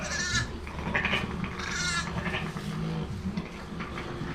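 A ram and young lambs, two days apart in age, bleat repeatedly at close range in a busy outdoor pen during morning lambing chores, their wavering cries overlapping above steady background noise.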